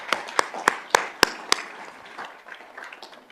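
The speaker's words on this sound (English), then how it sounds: "Let's applaud those principals" A small board-meeting audience applauding their principals: several sharp claps in an even rhythm, fading into softer, scattered clapping, fairly quiet and somewhat distant.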